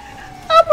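In a video game, an ambulance siren starts after a quiet low hum, coming in as two loud, close wailing bursts with a short gap between them.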